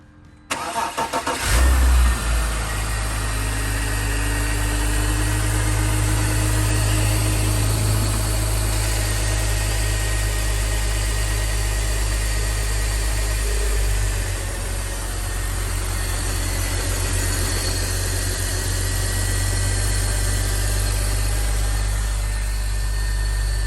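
BMW X engine starting up, then settling into a steady, loud, continuous idle that runs on with a constant hum and faint vibration, close by and with no talking.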